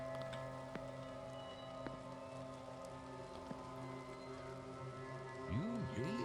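Steady rain falls outdoors in the video game The Séance of Blake Manor, a constant soft hiss of drops with faint tonal game ambience underneath and a couple of brief swooping tones near the end.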